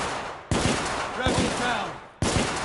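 Gunshots in a PS4 video game, two sharp loud cracks about two seconds apart over a busy battle din, with voices talking faintly beneath.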